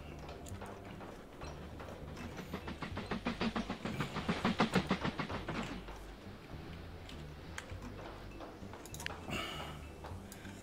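A train runs on rails in the Mashinky video game, with a rhythmic clickety-clack that swells to a peak midway and then fades away.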